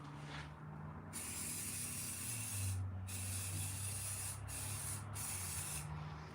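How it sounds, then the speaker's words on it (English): Silver glitter spray hisses from an aerosol can outdoors in several long bursts separated by short pauses, loud and close with no talking. "we're going to take some spray glitter in silver"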